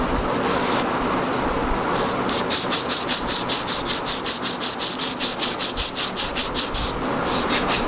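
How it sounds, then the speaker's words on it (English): Emery cloth rubs rust and pitting off a 1902 sugar cane mill roller as it is turned, a rapid back-and-forth scrubbing with even strokes that grows steady and rhythmic partway through, loud and close. "I'm going to take some emery cloth and try to clean a little bit of this pitted up on this."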